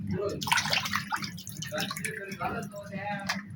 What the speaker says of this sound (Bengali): ভালো করে পরিষ্কার করে ধুয়ে নিতে হবে